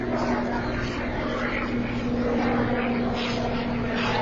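Helicopters of the UN MONUSCO mission flying over Goma, a steady broadband rotor and engine drone holding at a constant level throughout with no gaps.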